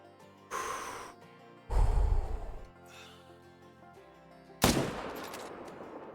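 Sniper rifle shots boom at an elk in the hunting game Call of the Wild, three loud sharp blasts spaced a second or more apart, each trailing into a rumbling decay.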